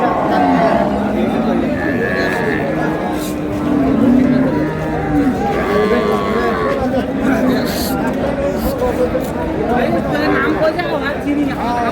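Cows and calves moo at a busy rural cattle market, the Ambari haat in Bangladesh. The lowing comes through steady crowd chatter, and someone talks close by.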